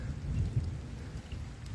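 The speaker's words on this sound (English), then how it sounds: "the rain's starting to come" Rain beginning to fall outdoors, a dense low rumbling wash of drops with soft irregular bursts, steady and moderately loud with no voices.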